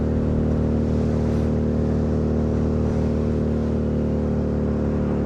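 A Lexmoto Vendetta 250cc V-twin four-stroke motorcycle engine drones steadily while riding, a constant low hum with wind rush and no voices.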